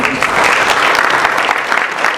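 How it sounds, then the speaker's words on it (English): Loud, dense applause from a corporate show audience celebrating the 350th printing machine milestone, a continuous close burst of many hands clapping that fills the whole moment. "a huge round of applause for that, please"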